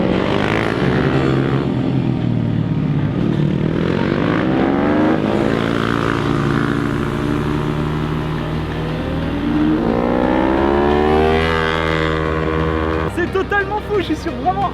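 Moto3-type 450 racing motorcycles screaming past on a kart circuit in Spain, several close passes with rising then falling engine pitch, loud and overlapping, one bike fading as the next approaches.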